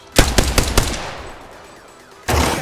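Several sharp gunshots burst in quick succession at the start of an Apex Legends arena match as the player is hit, then fade into quiet ambience before another loud burst of gunfire cuts in at the end.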